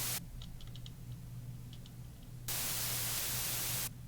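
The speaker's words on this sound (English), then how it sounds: "Some white noise that blends with the bass sound" A white noise layer from a synth patch plays quietly, with a faint low hum and light ticks underneath, then swells to a brighter, louder hiss for about a second and a half before cutting off.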